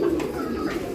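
A single racing pigeon gives a short, soft, low coo, close and steady across about a second, with faint background noise and no speech.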